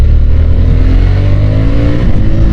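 Harley-Davidson Sportster S bobber motorcycle accelerating hard in first gear, a loud, close, continuous engine roar with pitch climbing steadily, no voices.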